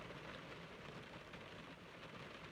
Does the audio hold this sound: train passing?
no